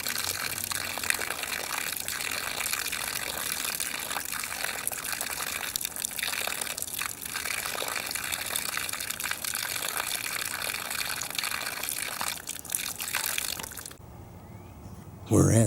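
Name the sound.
water splashing onto forming ice cone on lagoon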